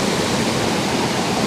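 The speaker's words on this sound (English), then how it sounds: "we have this little cascade just here" Small river cascade rushing steadily, a dense, continuous broadband roar of tumbling water heard up close, loud and unbroken with no voices.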